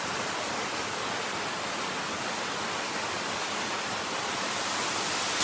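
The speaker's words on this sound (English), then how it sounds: "Cascade Falls." Cascade Falls, a waterfall on Orcas Island in Washington's San Juan Islands, pours as a steady, dense broadband rush that holds constant and fairly near throughout, with no voices.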